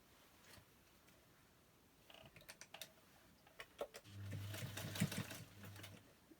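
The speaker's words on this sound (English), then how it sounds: "So I'm going to put a little row of stitch in" A sewing machine stitches a row on a fabric catnip cat toy, opening with scattered clicks and taps before a steady close mechanical whirr for about two seconds; no one speaks.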